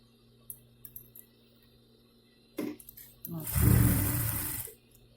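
A sewing machine stitches fabric for a frilly doormat rug. After a few quiet clicks, its motor whirs in a single loud, steady run of about a second and a half, then stops, over a low background hum.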